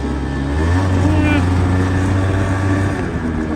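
A Honda Giorno two-stroke 49cc scooter engine idles steadily after starting, with a constant low buzzing drone held close and loud for the whole clip.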